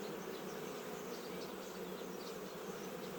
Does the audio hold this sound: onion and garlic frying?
no